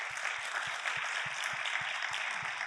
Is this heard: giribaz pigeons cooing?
no